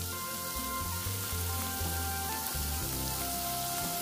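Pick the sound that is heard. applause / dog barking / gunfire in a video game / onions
onions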